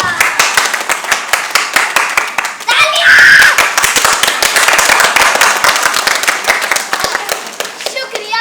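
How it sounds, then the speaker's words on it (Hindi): Loud, close applause fills a theatre during a drama performance, steady rapid clapping from the audience with voices mixed in beneath it. "तालियां"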